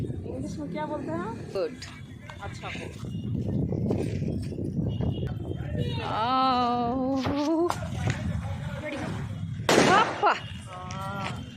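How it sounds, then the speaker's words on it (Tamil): A firecracker rocket whooshes up and bursts among festival noise, with loud whistling streaks and pops over steady background crowd sound and voices nearby. "என்ன சவுண்டு சூப்பராக மேலே போயிட்டு வந்துருச்சு"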